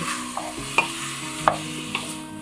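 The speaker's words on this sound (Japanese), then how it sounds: "ここでゆっくりと玉ねぎとかもね、透き通るくらい炒めてほしいです。" Potatoes and onions stir-fried slowly in a pan for homemade curry, heard as a quiet sizzle punctuated by three distinct clinks and scrapes of a utensil, no voices.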